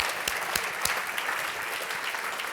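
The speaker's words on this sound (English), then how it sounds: "I think that deserves a round of applause on its own." A round of applause from an audience at an awards evening, dense steady clapping throughout, loud and close with a few sharper individual claps.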